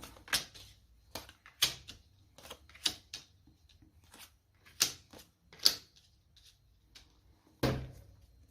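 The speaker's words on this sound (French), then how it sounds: "on pose les 5 cartes." Five tarot cards are laid down on a table one by one, giving soft, separate taps and light card slaps with quiet pauses between them, close and low in level.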